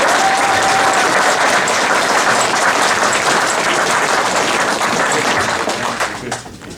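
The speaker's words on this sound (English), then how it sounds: "how about a round of applause for John Amplis's performance in Martin?" A convention audience at a Day of the Dead 30th anniversary reunion panel gives loud, sustained applause that tapers off near the end, with faint voices underneath.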